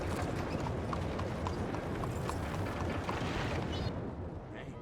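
Horse hooves clip-clop at a steady walking pace in Red Dead Redemption 2. The beats are close and evenly spaced, set against dense, loud game ambience.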